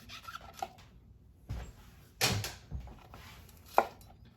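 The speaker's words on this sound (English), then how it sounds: "I'm just gonna fillet the outside of this, right? Getting strips of red pepper." A knife chops through strips of red pepper on a cutting board, a few sharp separate cuts and thuds spaced irregularly, close and quiet, with no voices.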